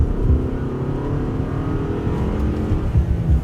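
A 2025 Toyota RAV4 Limited AWD accelerates at half pedal, its engine note rising in a steady, loud drone heard from inside the cabin, with road rumble and no talk.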